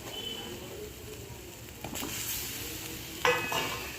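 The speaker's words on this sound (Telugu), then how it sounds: "వంకాయలు ఏమాత్రం విడిపోకుండా స్లోగా ఇలా కలుపుకోండి." Stuffed brinjals being stirred slowly in a masala curry, with a soft steady sizzle of frying and a couple of louder scraping clatters from the utensil against the pan, close and without talk.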